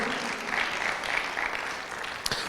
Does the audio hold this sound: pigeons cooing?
no